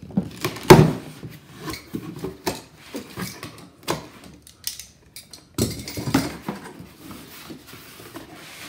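Cardboard box for a SKIL floor saw being opened, with scattered rustles, knocks and rubbing handling sounds, including a sharp clack near the start and a burst of packaging noise midway, close and moderately loud without talk.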